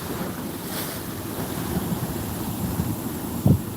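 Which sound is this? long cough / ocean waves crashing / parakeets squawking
ocean waves crashing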